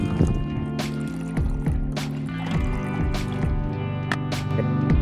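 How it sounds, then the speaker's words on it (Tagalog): Water dripping inside a coffee maker being tested with plain water after repair of a fault where it had power but would not pump water up, with irregular soft drips and trickling against a steady low hum. "mayroon nang tumutulo na tubig"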